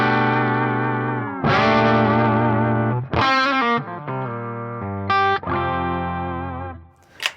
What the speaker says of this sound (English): the clean sound here is the bridge pickup in humbucker mode